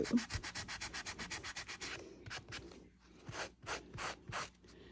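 Sandpaper rubs by hand across thrifted furniture in a quick, rhythmic run of close, scratchy strokes that slows into slower, separated passes.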